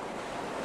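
Sea waves surge under gusting wind, a steady, full wash of surf and rough open-sea noise in a seafaring audio drama, with no voices in this short stretch.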